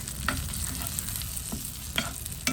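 Red chilies frying and being stirred in hot oil for a chutney, a steady close sizzle with several sharp stirring scrapes and spatters, no talking.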